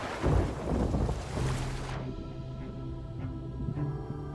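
Ocean water washes and surges around a swimming character in the Sea of Thieves game, a loud broad rush that cuts off sharply to a quieter hum with faint bubbling.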